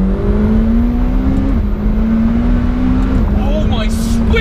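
McLaren 720S engine pulling hard under acceleration, a loud steady drone that climbs in pitch through gear changes, heard from inside the car with a voice briefly audible near the end.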